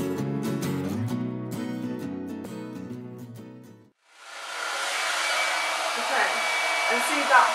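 A Babyliss Big Hair hot brush blow-drying hair: after a few seconds of music, a loud, steady, close airy whoosh starts and runs continuously to the end.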